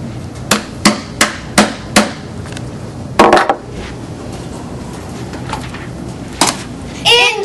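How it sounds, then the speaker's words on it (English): Several sharp taps of a wood block driving a bearing into a shaft plate while assembling an AndyMark CIMple Box gearbox, five evenly spaced knocks followed by a louder burst and a few later clicks, close and clear. "take a block of wood or something similar and you would gently tap the"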